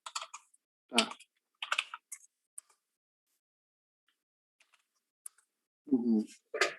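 Someone types program code for an Arduino microcontroller on a computer keyboard, with short bursts of key clicks between quiet gaps and a voice speaking at the start and end.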